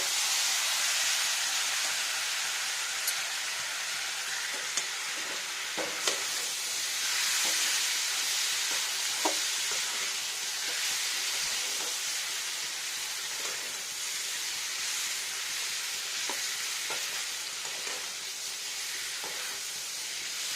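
Spice paste and nuts sizzle in a hot pan for a green pumpkin vegetable curry, a continuous loud frying hiss with occasional stirring scrapes and pops, no speech.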